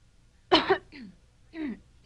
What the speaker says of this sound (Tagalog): Hindi ba nakakahawa yung ubo mo?